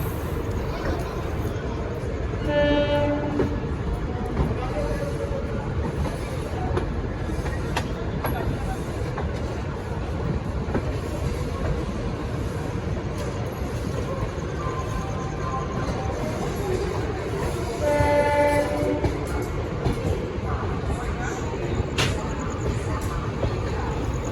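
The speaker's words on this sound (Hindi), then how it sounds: "हमारा डिपार्चर शुरू हो गया है इगतपुरी रेलवे स्टेशन से।" An Indian express train departing Igatpuri railway station rumbles steadily along the rails with a continuous low roar, faint metallic squeals and clatter rising now and then.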